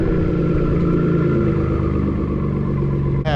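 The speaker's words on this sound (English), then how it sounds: "Turbos, here they go." A Ford F-150 EcoBoost pickup with twin turbos and an AWE non-resonating exhaust, heard up close as a loud, steady engine drone with turbo whistle and clattering texture throughout.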